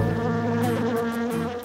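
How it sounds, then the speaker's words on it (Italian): A cartoon bee buzzes close and continuously around an apple tree with a steady, insect-like drone, and no one speaks. "Come stanno le nostre amiche ronzanti?"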